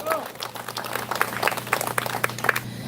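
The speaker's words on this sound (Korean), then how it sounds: "박수!" A congregation at a Unification Church peace prayer meeting in southern Gyeonggi breaks into brisk, dense clapping, a steady patter of many hands close by that holds throughout the short stretch.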